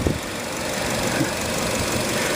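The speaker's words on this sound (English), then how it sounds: "this vehicle is actually running right now. Very, very smooth." A 2013 Nissan NV200 commercial van idles with the hood open, a steady, close engine hum with an even low rumble throughout.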